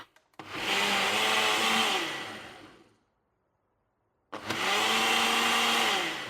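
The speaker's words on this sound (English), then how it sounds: "Put the lid on, and then we're going to blend this up" A blender whirs through an egg-bite mixture with cottage cheese in two close, loud runs. The first lasts about two seconds and winds down, then a second burst starts after a short silence.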